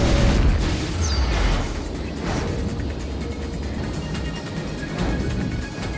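Dense, rumbling video game battle noise with mines exploding, continuous loud booms and crackles layered over one another, no clear separation between blasts.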